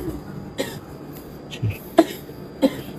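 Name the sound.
pet coughing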